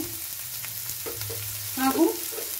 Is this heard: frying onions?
yes